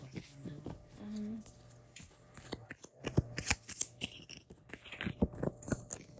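A deck of cards is shuffled up close, first with some soft handling and faint voice-like murmurs, then a rapid, dense run of riffling flutters and snaps filling the second half.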